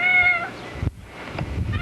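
A male cat meows with a drawn-out, harmonic cry at the start and another short meow near the end, close and fairly loud over outdoor background noise, with a thump in between.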